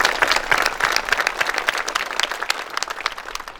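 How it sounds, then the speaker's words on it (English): Audience applauding at a school building dedication and ribbon-cutting ceremony, a dense, sustained wash of many hands clapping throughout, fairly loud and close. "Please hold your applause till the end."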